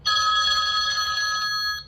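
Ringtone sample from a BLU G50 Mega smartphone: a steady electronic ring with bright sustained tones plays for under two seconds, clear and alone with no talking.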